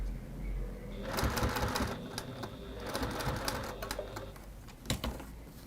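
A sewing machine stitches down rows of fabric, its needle running in a fast close mechanical chatter with short pauses and restarts.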